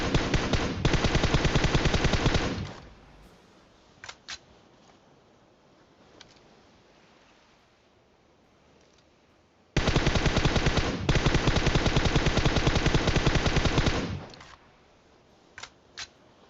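Two long bursts of rapid automatic gunfire in the mobile battle royale game PUBG Mobile, loud and close, separated by quiet stretches with a few isolated shots and clicks.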